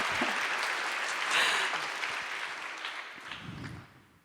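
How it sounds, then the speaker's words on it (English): An audience claps for a speaker at a Standing Together event held in a synagogue, Congregation Sherith Israel; steady, full applause from a room of people that slowly thins and fades out. "now I'm done with Alon-Lee, so you can give him an applause."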